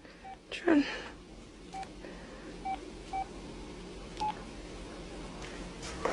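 Telephone dialing tones beep one at a time at irregular intervals, short clear tones sounding over a quiet background hum.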